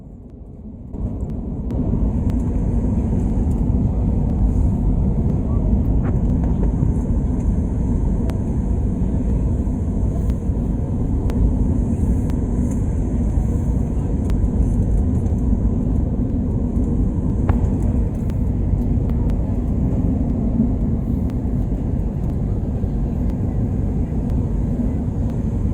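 Loud, continuous low roar of an airliner cabin during landing on a Stockholm Arlanda to London Gatwick flight, steady engine and airflow rumble with faint thin tones above and occasional small knocks.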